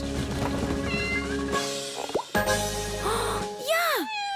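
A cat meows a few times, clear and close, over a soft tonal background with a brief plop and bouncy sound effects.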